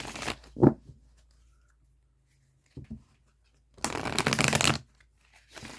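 Tarot cards are shuffled in short bursts: a quick riffle, a brief flick, then a longer rapid shuffle near the end, close with quiet pauses between.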